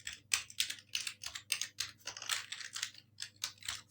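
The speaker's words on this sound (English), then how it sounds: "I'll type the word sourcing" Rapid, uneven clicking of keys on a computer keyboard, close and fairly quiet, in quick bursts with brief pauses between words.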